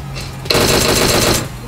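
A sustained burst of rapid automatic gunfire from a Scar rifle in PUBG Mobile, loud and close, lasting about a second after a brief quiet lead-in.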